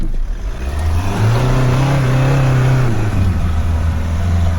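Pickup truck engine revving while climbing a rocky mountain trail, a loud close rumble that swells in pitch, holds, then eases back down as the truck strains over the terrain.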